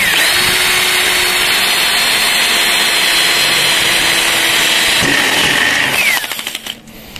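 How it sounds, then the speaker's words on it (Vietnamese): A power drill with a step bit bores into Xingfa aluminium, a loud steady whine running for several seconds and then stopping, with roadside noise behind it. "Rồi các bạn khoan xuống nha. Ngay cái tim các bạn khoan xuống."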